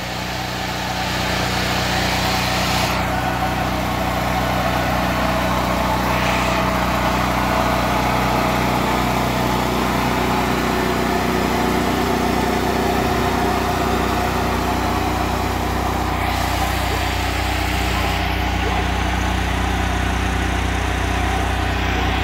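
A generator engine housed in a homemade shed runs loudly and steadily from about 20 to 25 feet away, a constant droning hum with a buzzing edge that keeps an even level throughout.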